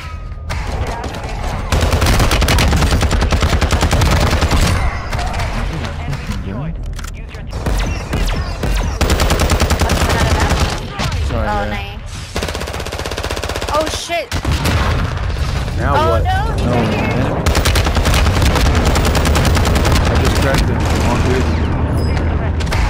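Loud, sustained bursts of automatic gunfire are aimed at a UFO in Call of Duty Warzone 2, with rapid shots, booms and dense game sound filling the clip as players talk over it.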